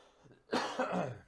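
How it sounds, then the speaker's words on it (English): A single harsh cough close up, short and throaty, following a moment of near silence, from a man coughing after coffee went down the wrong pipe. "Like coffee went down the wrong pipe earlier, and I've just been coughing the whole time."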